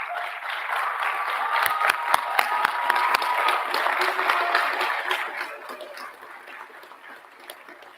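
Audience applause at a graduation ceremony for a manufacturing training cohort, with a sustained crowd of clapping hands, some sharp individual claps standing out early, then fading toward the end.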